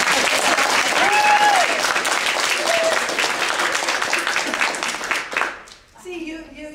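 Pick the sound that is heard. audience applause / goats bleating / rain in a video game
audience applause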